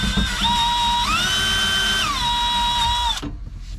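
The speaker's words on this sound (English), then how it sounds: "Now we'll just get the smaller drill bits and spend forever in here drilling holes." Power drill boring holes in a steel lever part of a Cat D3C dozer, a loud close whine that rises in pitch, holds, drops back, then cuts off.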